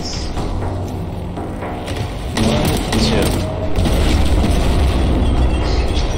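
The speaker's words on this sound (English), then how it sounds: "the explosions are a little funny, I'll admit" Loud, dense explosions and bursts of gunfire from the Warhammer 40k Boltgun video game roll on without pause, heavy booms and mechanical clatter layered together, with a voice talking over the action.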